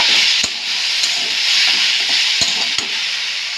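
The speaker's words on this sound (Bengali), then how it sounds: "আমাকে নাড়িয়ে চাড়িয়ে বেশ কিছুক্ষণ ধরে ভেজে নিতে হবে" Okra fries in oil in a pan while being stirred, giving a loud, steady sizzle with a few sharp clicks and scrapes from the stirring utensil.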